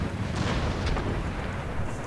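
Cannon fire in the video game Empire: Total War (Darthmod) during a siege of Madrid: a dense, rumbling barrage of overlapping artillery booms with a few sharper reports, continuous and loud with no talk.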